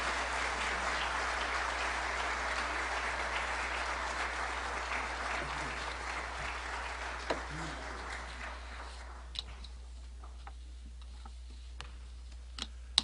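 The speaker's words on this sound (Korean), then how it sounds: "einem großen Applaus willkommen heißen" Large audience applause at a formal event welcoming former German chancellor Gerhard Schröder, a steady roar of clapping over a low hum that thins into scattered individual claps toward the end.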